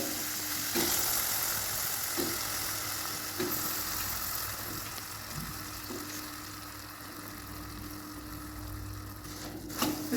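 Chopped ridge gourd frying in spiced oil masala, a steady continuous sizzle with periodic soft knocks of a stirring spoon against the pan, close and even throughout.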